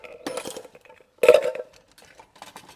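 Metal tools clink and rattle in a few brief bursts, a pair of fabric scissors being picked up and set down among other craft tools.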